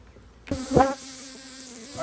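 Honeybees buzz around an opened backyard hive, a steady close drone after a sudden onset, with one louder pass near the start and no talking.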